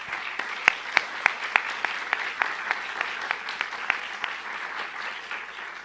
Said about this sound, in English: So if we could all give a round of applause to them.